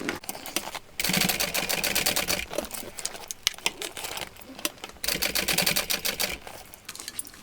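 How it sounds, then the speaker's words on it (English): Close, rapid mechanical chatter of a sewing machine top stitching a tote bag, running in several bursts separated by short pauses, with a faint click between runs. "I think we still need a second row of top stitching."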